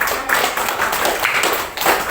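A small group in a classroom or coaching session claps for a student, giving a brief patter of applause with scattered hand claps, moderately loud and close, without speech.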